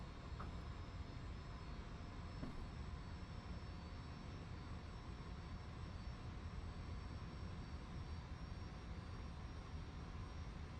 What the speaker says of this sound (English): I'm idling the throttle while in flight.